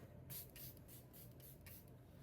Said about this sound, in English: I'm gonna set it with the Charlotte Tilbury setting spray here. I douse my face in this.